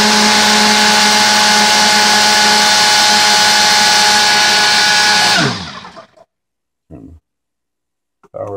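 Single-serve blender whirring a Premier protein shake: a loud, steady motor roar with a whining tone for about five seconds, then winding down to silence, followed by a couple of brief clunks close by.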